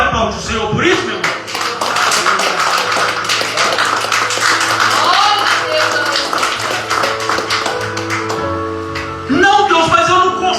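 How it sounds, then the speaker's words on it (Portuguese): Pentecostal church congregation claps along loudly and rhythmically during a worship service, with music and voices mixed in. "Você pode aplaudir o Senhor por isso,"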